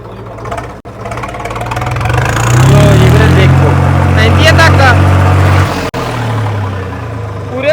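A Swaraj 855 tractor's diesel engine idles then revs up and holds a loud, throbbing drone nearby before easing back, with brief clicks and some voices.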